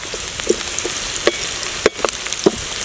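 Ginger fries in a pan for red sauce pasta, a close, continuous sizzle punctuated by several sharp spatula taps and scrapes at irregular intervals.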